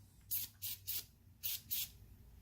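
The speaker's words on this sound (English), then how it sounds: "So we're just gonna spray this on." A cleaning product is sprayed onto a garbage disposal in five short, close hissing bursts, three and then two, with quiet pauses between them.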